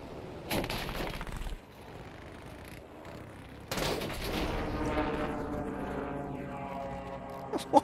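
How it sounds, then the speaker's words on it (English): Light machine gun fire from a fighter plane in the Battlefield 5 Pacific video game, heard as two dense bursts of rapid gunfire with engine drone and game effects running between them. "Tried to get a cheeky kill, but the light machine guns just aren't up to the task."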